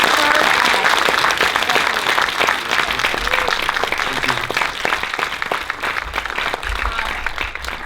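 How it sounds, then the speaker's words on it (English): Sustained applause from a large crowd at a film festival opening night, steady and loud throughout, with dense overlapping claps and a faint murmur of voices underneath. "And a round of applause for Tadashi Nakamura"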